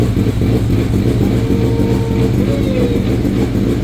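A big-block engine with a cam idles in a mini truck, a loud, steady, close rumbling drone with a dense low-end burble that holds constant throughout, with no talking.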